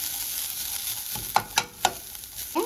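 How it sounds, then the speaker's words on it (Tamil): Grated coconut dry-roasted in a pan for a sweet stuffed poori, heard as a low background hiss with a few soft scraping stir strokes near the end. "தேங்காய் போட்டு நல்லா வறுக்கணும். நல்லா செவக்க வறுக்கிறோம்."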